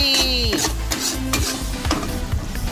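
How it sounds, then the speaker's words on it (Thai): Pork stir-fried with seasoning and plenty of pepper in a pan, tofu dish cooking: steady loud sizzling with repeated scraping stirs of a spatula, close up and continuous, no talk. "ผัดไปเรื่อยๆผัดไปเรื่อยๆจน ส่วนปรุงรสของเราเนี่ยมันเข้าเนื้อหมู"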